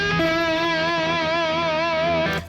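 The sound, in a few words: bottleneck slide blues guitar with distortion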